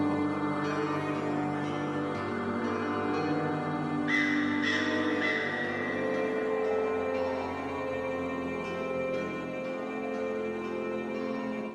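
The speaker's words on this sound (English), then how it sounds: "here's the murder of crows" Several crows caw in a loose, repeated series at moderate distance, their harsh calls rising above a steady low hum.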